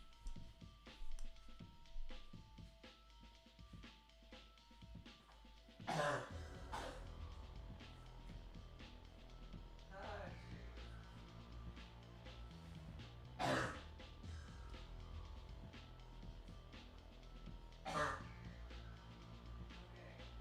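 Several harsh throat-clearing bursts stand out over a steady background hum, spaced a few seconds apart, fairly close and loud.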